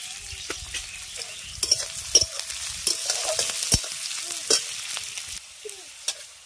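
Chopped onions frying in oil with a little salt in a home kitchen, a steady close sizzle with intermittent stirring scrapes and clatters against the pan, no talking.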